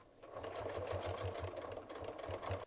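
A sewing machine top stitches around a quilted crazy-quilt Christmas stocking at a 3 stitch length, its needle pulsing in a steady rapid rhythm, close and continuous with no talking.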